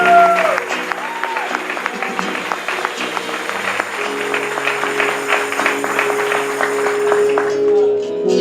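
A church congregation claps steadily and loudly throughout, with a sustained tone and faint voices underneath.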